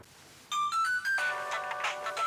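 A phone ringtone plays loudly when a call is placed, a quick rising sequence of bright electronic tones followed by a fuller burst of melody, after a brief quiet start.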